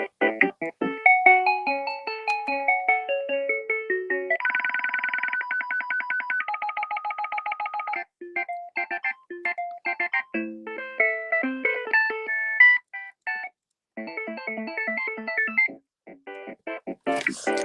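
Several electronic phone ringtones play one after another, bright synthesized melodic beeps and trills with short pauses between tunes, clear and alone with no talking.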